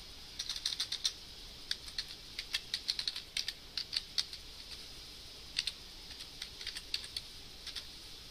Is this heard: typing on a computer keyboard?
yes